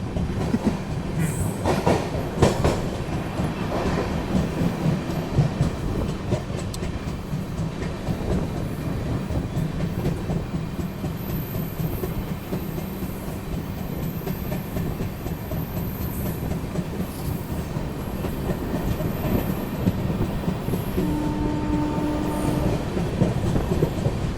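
A Vande Bharat express train runs on rails with a continuous low rumble and rhythmic clatter of wheels over track joints, faint squeals rising briefly above the steady roar.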